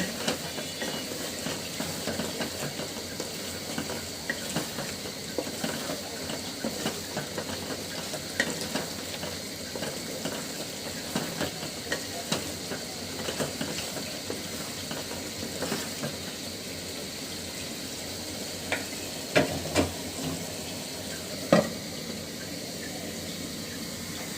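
Egg and tomato curry being stirred in a pan, a steady soft sizzle with scraping strokes running throughout and a few sharper clinks near the end, no voices.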